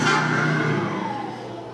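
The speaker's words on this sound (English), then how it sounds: "I don't understand why people have to rev their engines all the time." A car engine revving outdoors, a loud sustained mid-range roar with a falling pitch sweep as the revs drop off over a couple of seconds.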